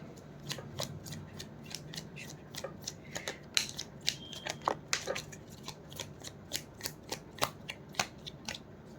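Tarot cards are shuffled by hand in a quiet room, a steady series of soft riffling flicks and taps repeating every fraction of a second, close and fairly faint.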